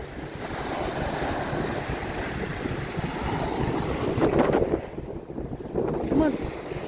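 Ocean surf rolls onto Diamond Head beach in Hawaii under gusty wind buffeting the microphone, a continuous wash of waves with a few louder surges near the end.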